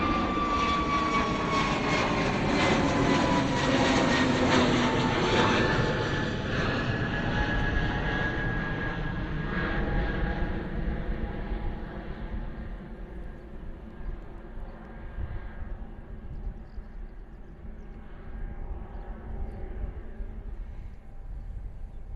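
A fixed-wing airliner climbs after takeoff from the runway at Bristol Airport, its loud, steady jet roar filling the air and then slowly fading and thinning as it gains height, with no talking.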